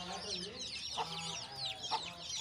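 A mother hen clucks in a poultry yard while teaching her chicks to peck at food, with soft repeated clucks and a couple of sharper calls over a busy background of high chick peeps.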